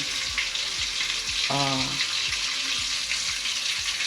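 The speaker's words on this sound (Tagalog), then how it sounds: "nagpuprito ako ng tilapia" Tilapia frying in a pan in an outdoor dirty kitchen makes a constant, dense sizzling hiss with small crackles and a brief tonal sound partway through.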